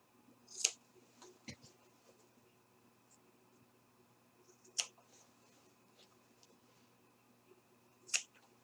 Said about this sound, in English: Now, you can then at this time also trim your corners.